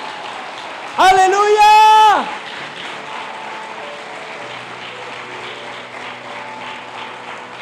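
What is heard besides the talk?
applause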